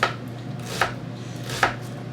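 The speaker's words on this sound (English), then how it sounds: "You also want to cut up 1 onion, like I said" A knife chopping an onion on a board for bacon ranch meatloaf, three separate sharp thuds spaced evenly, close and clear in a quiet room.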